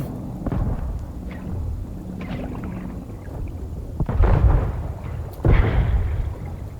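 Deep, booming blasts in the game Trailmakers hit twice in quick succession over a low rumbling background, loud and close, with no talking.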